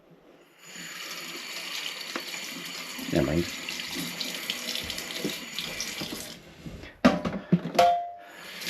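Water, used to wash bicycle hub bearings, poured from a colander down a kitchen sink, a steady gushing stream for several seconds, then clattering splashes. Someone speaks briefly over it.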